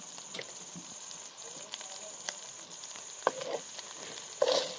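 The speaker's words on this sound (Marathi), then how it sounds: "आता मसाला टाकून घेते" Spice masala sizzles in a pot for a spicy fish curry, a faint, steady frying hiss with occasional sharp crackles and stirring taps close by.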